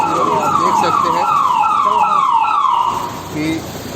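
An ambulance siren wails at the scene of a Naxal attack in Bijapur, Chhattisgarh, while a soldier is brought in. Repeated rising and falling sweeps sound loud and close, then fade away, with a faint voice near the end.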